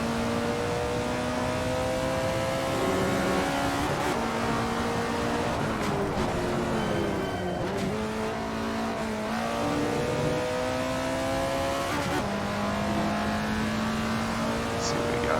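Alfa Romeo 33 Stradale engine in Assetto Corsa on a hot lap, revving loud and close through repeated upshifts and downshifts with rising and falling pitch, someone talking over it.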